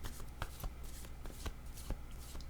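Tarot cards are shuffled by hand in quick riffling bursts, soft papery flicks and taps repeating close up at a quiet level, with no voice over them.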